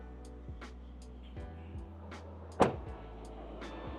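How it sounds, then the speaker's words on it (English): A power window motor in a 1993 Mitsubishi Pajero V46 hums steadily at close range, with soft clicks and one sharp clunk as the glass reaches its stop. "This is fully functional now. This power windows"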